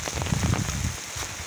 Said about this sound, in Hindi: आज एत वर्षा